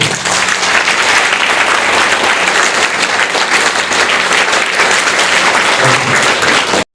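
A crowd at a stage program at the Government ITI in Ranibandh, Bankura claps loudly and steadily to welcome a guest, a dense burst of applause filling the whole stretch.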